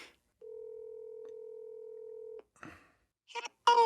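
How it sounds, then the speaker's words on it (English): A telephone gives a steady dial tone for about two seconds, then a few short tones follow. Voices come in near the end. "Let's call Pete's wife"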